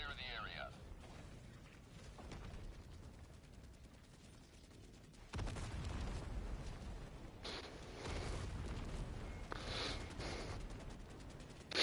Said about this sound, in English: Firing orbital barrage.